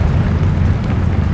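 Confringo fire-blast spell cast in Hogwarts Legacy, a loud sustained rumbling burst with heavy low-end roar and crackling hiss through a short stretch, no voices.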